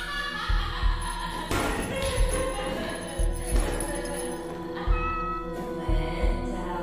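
A cat in the horror game Dreadout 2 meows repeatedly, a series of clear mid-loud cries over an ambient game background with periodic low thuds, and no voices.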